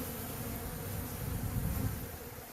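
A swarm of honey bees hums during a capture, a dense, continuous, close buzz of many wings that swells slightly toward the middle.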